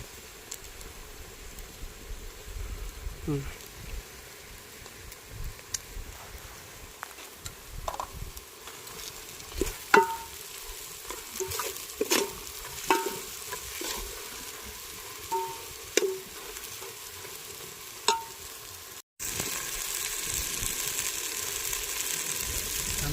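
Masala roasts in a pan over a wood-fired village stove for a mutton curry, a low crackling sizzle with scattered scrapes and taps, ending in a louder steady hiss.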